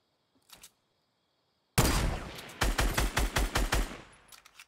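Gunfire in the video game Fortnite: a brief faint shot, a pause, then a loud close burst followed by a string of rapid, evenly spaced shots that taper off.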